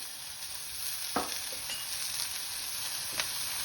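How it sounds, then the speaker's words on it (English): Seasoned vegetables for vegetable egg foo yung sizzle steadily as they are stir-fried in a hot pan, a close continuous hiss broken by a few brief scraping tosses. "So give those a stir fry through."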